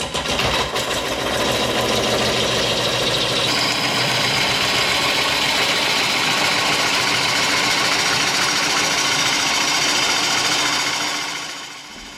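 Wood lathe spinning a plywood platter as a tool cuts it, a loud, steady motor hum and grinding whir running continuously up close, with the pitch shifting slightly midway before fading at the end.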